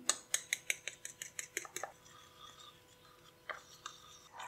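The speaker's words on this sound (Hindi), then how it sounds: "अब इन सारी चीज़ों को डाल के हम मिक्स कर लेंगे" Salt, soy sauce, flour and cornflour are stirred together in a bowl with a utensil, giving a quick run of close, crisp scraping clicks that slows into a few scattered taps.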